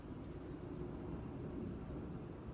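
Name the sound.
airplane flying overhead near LaGuardia Airport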